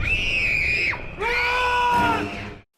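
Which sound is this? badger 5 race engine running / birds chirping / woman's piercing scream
woman's piercing scream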